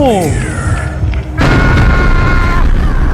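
Bomb blast in a horror video game, a sharp broadband boom hitting midway and ringing on as a sustained loud rumble, with game music and a voice talking throughout.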